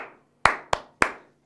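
Three sharp hand claps made on command during a guitar class, close and loud, in quick uneven succession with a short room echo.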